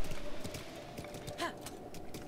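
Horse hooves clip-clopping in the video game The Legend of Zelda: Breath of the Wild, a quiet, steady rhythm of light hoofbeats under soft game ambience.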